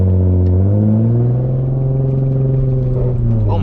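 A Nissan Z with a misfire accelerates hard out of a U-turn, its engine note a loud, close, rising drone that climbs steadily in pitch over a few seconds with a rough, buzzing rumble underneath.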